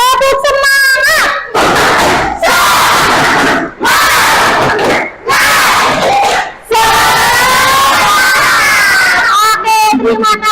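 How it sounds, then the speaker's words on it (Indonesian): A class of school children repeats a loud, rhythmic spirit clap chant together, their combined voices filling the room in several energetic bursts with brief gaps between them. "Tepuk semangat."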